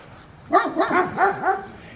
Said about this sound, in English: Oh, neighbor's dogs.